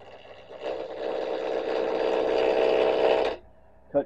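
A wood lathe spins a bowl blank at about 1,000 RPM while a bowl gouge cuts, making a steady close hum with a whirring edge for nearly three seconds that stops abruptly and is followed by a brief knock.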